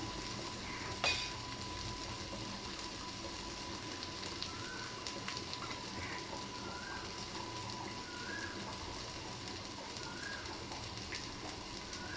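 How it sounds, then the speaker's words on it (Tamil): Fish frying on a flat tawa gives a steady, even sizzle that holds at a moderate level the whole way through, with no talking. "அடுத்தது வந்து ஃபிஷ் வந்து இந்த தவாவில் வந்து வறுத்துப்போம்"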